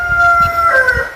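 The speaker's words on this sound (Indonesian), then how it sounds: "Aduh ini ayam siapa lagi" A rooster crows close by, a loud drawn-out call over low background rumble.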